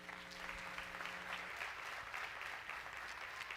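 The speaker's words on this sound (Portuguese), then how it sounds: "Aplauda o Senhor" A church congregation claps together in a dense, sustained wash of applause that carries on evenly throughout, heard at a moderate distance with a faint hum at the start.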